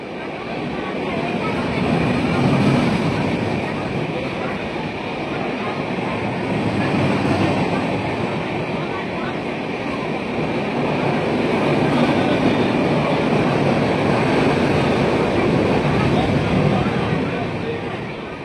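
Gitanjali Express running between Howrah and Mumbai CSMT, a loud sustained rumble of wheels and carriages with swelling and easing intensity, while a voice talks over it.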